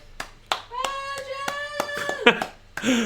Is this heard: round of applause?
yes